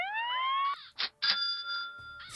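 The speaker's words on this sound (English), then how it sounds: "What was that? Oh, fire alarm." A fire alarm rings in the building game Constructor: rising electronic tones lead into loud, bell-like ringing bursts that repeat in a stuttering pattern, with no talking.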